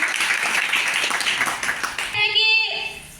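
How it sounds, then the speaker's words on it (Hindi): An audience at a prize-giving event claps loudly, a dense burst of many hands that continues for about two seconds before giving way to a voice speaking over music-like tones. "मैं चाहूँगी उनके लिए जोरदार तालियां होनी चाहिए"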